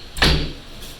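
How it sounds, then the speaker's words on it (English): Indoor door that refuses to stay shut, a single soft thud as it swings against its frame, fading quickly with no talk over it. "This door does not want to stay shut."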